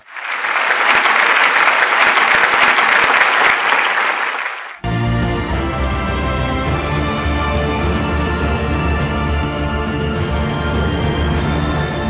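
A church congregation claps in praise, a dense burst of clapping lasting several seconds before cutting sharply into music.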